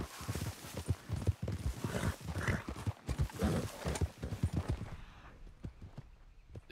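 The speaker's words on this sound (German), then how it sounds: "Schickes Pferd." Steady clip-clop of horse hooves at a walking pace in Red Dead Redemption 2, fairly close and rhythmic, fading out toward the end.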